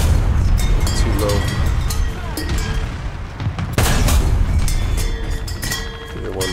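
37 mm cannon fire in War Thunder ground combat, heavy booming shots over a constant rumble of engine and battle noise, with a sharp loud report near the middle.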